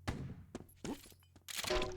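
A grenade goes off in a fast-paced multiplayer shooter match: several short thumps and cracks in quick succession, a brief bright burst near the end, mixed with other game effects.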